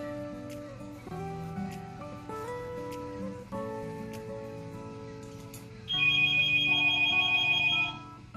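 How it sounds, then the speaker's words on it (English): A phone rings with a steady electronic ringtone melody, repeating tones heard close in a workshop during a Polaris Ranger 800 top end rebuild, getting louder and brighter near the end. "the phone rang, so I had to stop"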